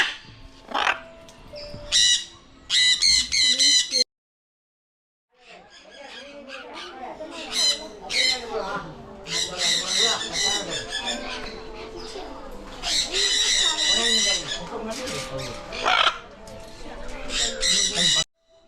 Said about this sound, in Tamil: இங்கே பாருங்க வெள்ளை மயில் இருக்குது